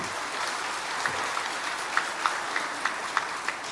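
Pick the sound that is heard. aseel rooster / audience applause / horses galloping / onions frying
audience applause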